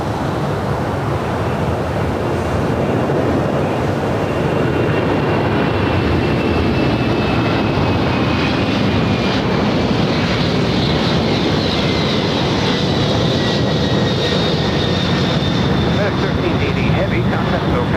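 Heavy MD-11 jet departing at LAX, a loud, continuous engine roar with a high whine sliding slowly downward, filling the whole span without break.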